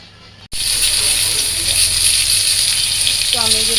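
Rohu fish heads frying in a pan, a loud steady sizzle that bursts in suddenly after a brief quiet start and crackles on continuously; a voice briefly sounds near the end.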